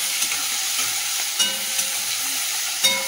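Prawns and vegetables frying and being stirred in mustard oil in a wok give a steady close sizzle, with a few brief louder stirring scrapes along the way.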